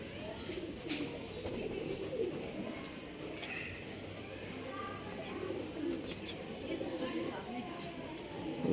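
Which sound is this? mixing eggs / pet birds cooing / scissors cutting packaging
pet birds cooing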